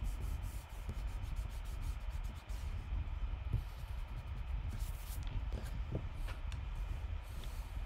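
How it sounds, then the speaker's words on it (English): Charcoal lines on paper are rubbed out with an eraser in quick, close, scratchy strokes that come in irregular bursts, some brisk and some slower, with no talking. "I'm going to erase the lines I don't need or don't want."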